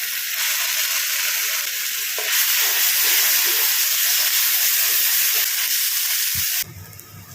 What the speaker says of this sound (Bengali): এর মধ্যে মশলাটা মোটামুটি ভাজা হয়ে গেছে